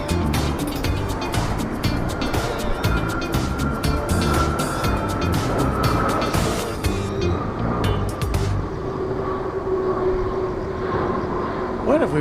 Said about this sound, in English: Viva Air arriving from Taipei, Airbus A330 300.